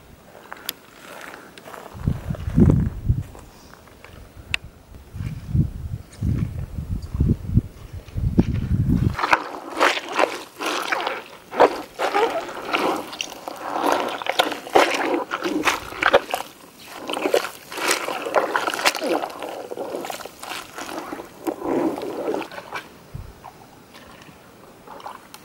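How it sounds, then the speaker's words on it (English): Bare feet stomp on fruit at an off-grid homestead, squeezing out juice: first a run of dull low thumps, then a long stretch of repeated wet squelching and sloshing steps, fairly close. "I'm actually surprised at how much juice is coming out of them just by stomping on them."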